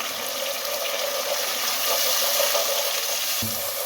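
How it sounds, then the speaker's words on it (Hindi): A teaspoon of garlic ginger paste fries with browned onions, giving a bright, steady sizzle with a watery hiss, close and continuous, and a short knock near the end. "1 टीस्पून लहसुन अदरक पेस्ट वो डाल दें और लहसुन अदरक पेस्ट को इसमें भून लें"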